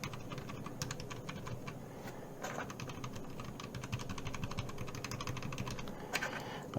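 Fast, steady typing on a Keychron K4 mechanical keyboard with optical red linear switches fitted with O-rings, a dense run of muted clacks heard close up and continuously.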